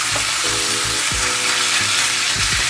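A pound of ground beef sizzles steadily in a pan as the cook crumbles it, with broadband frying hiss and intermittent scraping stirs, close and fairly loud.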